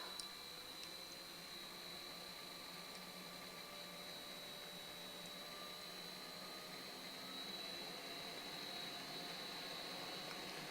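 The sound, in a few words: fan running in the background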